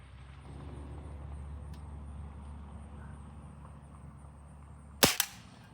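A Beeman 1022 .22 caliber air rifle fires a 16 grain pellet, a single sharp crack with a short echo near the end after several seconds of low ambient hum.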